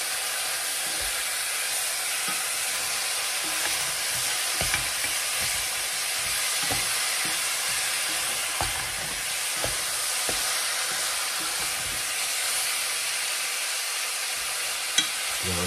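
Chicken curry being stirred in a hot pan: a steady, close sizzle and hiss runs throughout, broken by light, irregular scrapes and taps of the utensil, with no talking.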